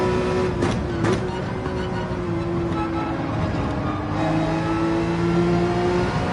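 Race car engine in Gran Turismo 7 held on throttle, a loud steady harmonic whine that holds pitch, with a couple of brief shift blips early and a second tone joining later, no speech.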